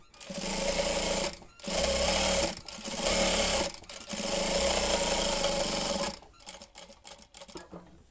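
An electric sewing machine stitches a kantha quilt in several long, loud runs of rapid mechanical chatter, separated by short pauses, ending in a few brief bursts, close up.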